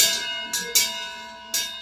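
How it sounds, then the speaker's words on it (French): A chapel bell sounded by pulling its rope rings out in several separate bright, ringing strikes, each decaying into a sustained hum before the next, fairly close and with no voices. "Et là, vous avez la corde avec la cloche pour être sonné."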